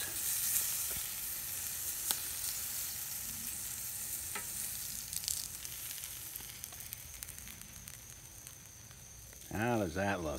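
Bacon-wrapped butterflied venison backstrap sizzles steadily on a cast iron Lodge Sportsman's Grill, a close, continuous crackle and hiss that runs throughout, with a brief voice near the end.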